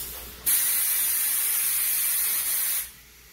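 Oil sprayed onto a 150cc GY6 scooter engine piston and cylinder: one loud, close, continuous hiss lasting about two seconds, starting and stopping abruptly against a quiet background.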